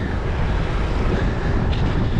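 Steady wind buffeting the microphone on a gravel bike ride along a river, a continuous low roar rushing close and loud throughout with no talking.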